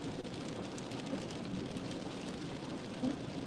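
Steady rain pours down during Winter Storm Cora, a continuous dense hiss of drops drumming on surfaces, fairly loud and unbroken, with no voices.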